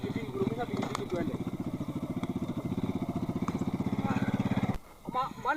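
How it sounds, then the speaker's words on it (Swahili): A bodaboda motorcycle engine revs in a steady, loud, rapid pulsing throb for several seconds, then cuts off abruptly before a brief restart at the end, with voices talking faintly underneath. "Gurumisha pikipiki twende."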